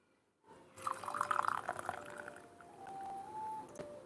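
Water pours out of an oolong tea brewing vessel during a Chinese Xuepian Dancong tea ceremony, a close, trickling stream that gurgles and then runs more smoothly, faint and without talk.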